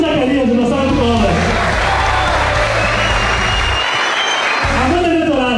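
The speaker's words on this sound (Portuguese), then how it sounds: "Segundo Zacarias, uma salva de palmas." A crowd at a Brazilian political gathering applauds a speaker being introduced. Loud, dense clapping with some cheering swells through the middle, and tonal voices or music sound at the start and end.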